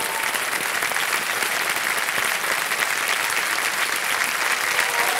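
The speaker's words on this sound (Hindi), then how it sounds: "तालियां बजाएं उनके लिए।" Dense, steady applause from a game show studio audience for a contestant on Kaun Banega Crorepati, loud and continuous without a break.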